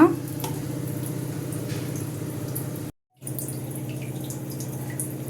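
Water runs steadily from a household water filter into a container, a continuous close splashing trickle with a brief break in the middle.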